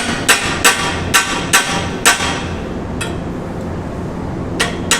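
A hammer strikes a lightly tack-welded steel frame in a welding workshop to set its angle: about six sharp metallic taps in a loose rhythm, then two fainter hits, close up over a low hum.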